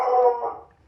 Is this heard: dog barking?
yes